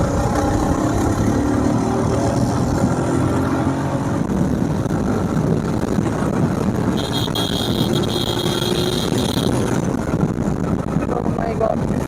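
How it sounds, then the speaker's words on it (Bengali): A race motorcycle speeds up on an open, empty village road. A loud continuous engine roar mixes with wind rush throughout, close and steady. "একটু বাইকটা স্পিড করে দেখি কীরকম হয়।"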